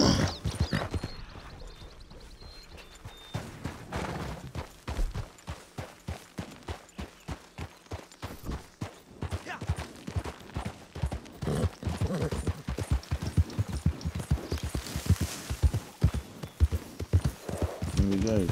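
Horse hooves clip-clop steadily in Red Dead Redemption 2, starting at a walk and then quickening into a rhythmic gallop, with occasional voices speaking over the hoofbeats.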